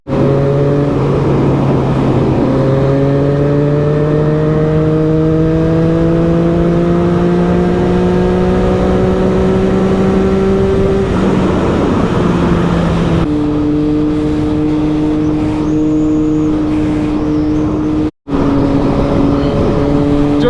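A Triumph Street Triple R motorcycle cruises on a highway, its engine droning steadily and rising in pitch through several shifts, with wind rush close to the rider and no talking.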